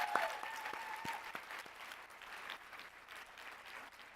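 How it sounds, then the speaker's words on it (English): A conference audience applauds, with a few distinct claps up close over a broad, fairly quiet wash of clapping that gradually thins out. "Give them all a round of applause, please."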